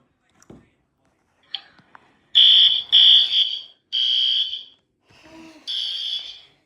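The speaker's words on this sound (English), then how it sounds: "So there's an actual fire alarm." A working Lego-built fire alarm system rings in loud, sustained electronic bursts, about four long blasts with short gaps after a few soft clicks from pulling the alarm, with a little talk in between.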